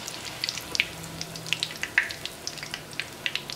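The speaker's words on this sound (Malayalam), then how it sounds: "ഇനി ഇത് ഓയിലിനകത്ത് മാറ്റാം." A golden semiya cutlet fries in hot oil with steady sizzling and scattered sharp crackles and pops, close and alone.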